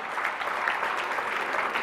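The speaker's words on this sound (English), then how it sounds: "And a round of applause." Audience applause at a live gala charity auction, steady dense clapping filling the whole short stretch.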